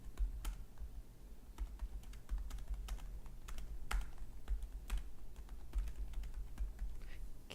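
Close, quiet typing on a computer keyboard while a survey description is written in Google Forms: irregular light key clicks with brief pauses over a low steady hum.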